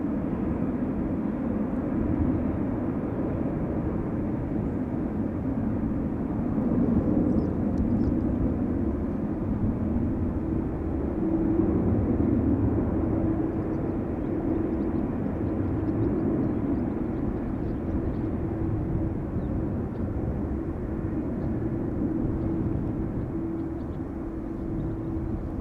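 A Qatar Airways Boeing 777 bound for Doha taxis at Amsterdam Schiphol Airport, heard as a steady, fairly loud jet-engine rumble and whine that swells slightly and then settles, with no voices.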